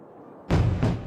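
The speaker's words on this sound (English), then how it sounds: "The miners count the explosions one by one" A deep, loud blast booms out of quiet rumble inside a mine, followed by a second heavy explosion close behind, both thick and rolling.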